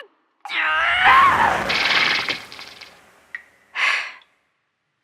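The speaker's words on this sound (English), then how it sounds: "Sorry about that yell." One loud, close, strained yell that breaks into a raspy, breathy fade, followed by a short pause and then a sharp exhaled huff, all from a single voice with no other sounds.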